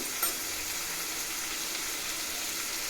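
Amaranth leaves and moong dal fry in a pan with a steady, even hiss of sizzling. One brief clatter of stirring comes near the start, then the frying carries on alone.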